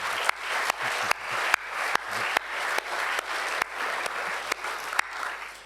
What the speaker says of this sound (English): Let's give a round of applause for all.